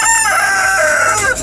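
A native chicken crowing loudly up close in a rooftop garden, one sustained cock-a-doodle-doo filling the moment.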